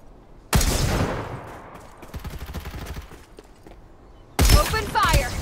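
Gunfire in the battle royale game Farlight 84 crackles in two loud bursts, one opening and one closing, with lighter rapid shots patterning the quieter stretch between them.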